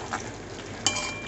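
Cauliflower and a little potato fry in oil with a soft, continuous sizzle, punctuated by two brief clinks of a spoon stirring the pan, close and clear.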